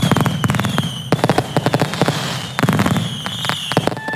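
Fireworks go off at a New Year celebration at Knapford Station, with loud, close clusters of sharp bangs and crackles coming in rapid bursts, some trailing high whistles.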